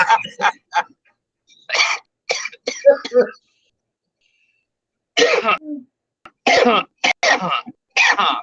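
Several short, sharp coughing bursts come in two clusters separated by a few seconds of silence, close and fairly loud.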